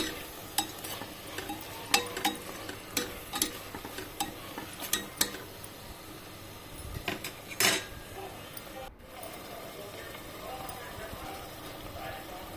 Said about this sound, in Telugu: వేసుకొని ఒకసారి బాగా కలపాలి.